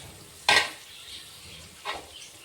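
Onion, carrot and green chillies in a pan, with a faint steady sizzle of frying under two brief, sharper stirring scrapes of a utensil against the pan.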